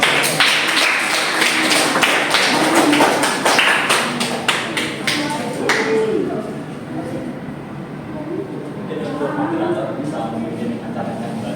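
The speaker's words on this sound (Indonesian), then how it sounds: "Tepuk tangan semuanya" A classroom group claps in a dense burst of quick, sharp hand claps during a microteaching session. The clapping fades after about six seconds and gives way to quieter room sound and voices.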